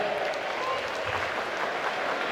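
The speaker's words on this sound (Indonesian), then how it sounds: "Tepuk tangan buat kawan kita." Steady audience applause fills a campus hall at a national-spirit discussion forum, a continuous even wash of many hands clapping at moderate loudness with no break.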